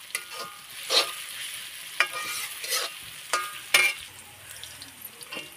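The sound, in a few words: sautéing chicken curry in a large kadhai on a wood stove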